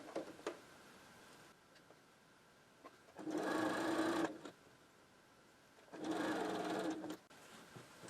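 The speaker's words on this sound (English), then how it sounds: "Our next step is to sew a 1/4 inch on either side of these lines." A sewing machine stitching quilt block seams a quarter inch from marked lines runs in two steady whirring bursts of about a second each, separated by quiet handling clicks, close and clear.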